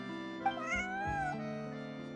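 A cat gives a single drawn-out meow, close and clear in a quiet room, rising then falling over about a second with no voices.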